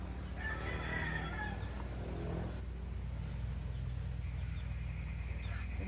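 Roosters crow and chickens cluck on a farm, fairly close and clear over a low steady background hum, with a few crows stacking up across the short stretch.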